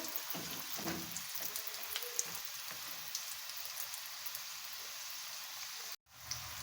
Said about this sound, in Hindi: तो साइडों को चेंज करते हुए हम मीडियम फ्लेम पे इनको फ्राई कर लेंगे अच्छा सा कलर आने तक